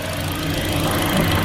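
A salvage-repairable 2015 Chevy Sonic LT with its original engine idles smoothly and steadily, a close, even low rumble with a constant hum and no talk.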